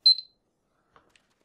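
A Super Mario Odyssey countdown timer runs out with a quick burst of bright, high beeps, followed by a couple of faint, tiny blips in otherwise quiet game audio.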